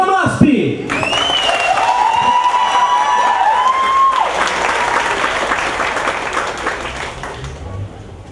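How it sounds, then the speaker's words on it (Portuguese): A Christmas concert crowd applauds and cheers for a marching band, sustained clapping with whoops and shouts after an announcer's voice and a whistle-like tone at the start. "Aplausos para Banmasp!"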